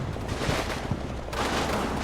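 Gunfire in a World War II game raking a hedgerow, a rapid rattle of shots blending into a rough continuous roar, moderately loud with no voices.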